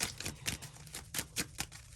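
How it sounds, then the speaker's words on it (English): A deck of tarot cards is shuffled by hand, giving a rapid run of soft papery riffles and taps close by, fairly quiet and unaccompanied by talk. "one more shuffle with these deck"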